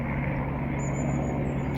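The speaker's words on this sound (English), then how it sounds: "helicopter." A helicopter passes overhead, a steady, droning rotor and engine rumble that holds at a constant loud level throughout, with no voices over it.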